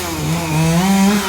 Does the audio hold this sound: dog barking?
no